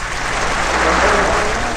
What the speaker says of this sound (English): Biggest anti-communist crowd in the post-war era erupts